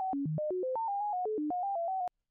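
A sequence of clean SuperCollider synthesizer tones jumping abruptly between random, non-interpolated pitches eight times per second, alone, ending with a click.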